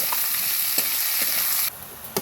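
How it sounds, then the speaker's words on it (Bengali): Onions frying and being stirred in a pan over a wood-fired stove, a loud continuous sizzle with a few spoon knocks, the hiss dropping slightly near the end. "এই দেখো পেঁয়াজ লাল লাল করে ভেজে নিব"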